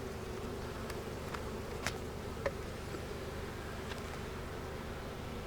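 Honey bees buzz around a backyard hive being inspected, a steady close drone with individual bees whizzing past now and then, and no speech.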